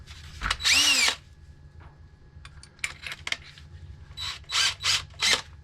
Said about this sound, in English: So I want to drill from this end